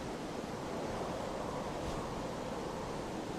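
Steady, loud wind roars without a break in a video game, a dense, even rush that fills the whole scene.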